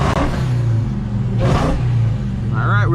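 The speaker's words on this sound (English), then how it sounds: "Hear them turbos?" A 730 hp Dodge Charger SRT Hellcat revs its engine in the rain, a loud, sustained mechanical roar with a rising whine near the end, under brief voices.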